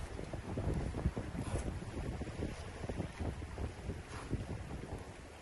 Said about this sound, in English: as always, the wind began to pick up